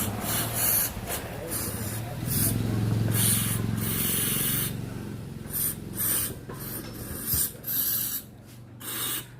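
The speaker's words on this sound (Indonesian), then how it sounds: "Kita semprotkan seperti ini" Carburetor cleaner hisses from an aerosol can in repeated short sprays and a longer burst into the fuel pump filter of a Honda Verza motorcycle, close up, with someone talking over it.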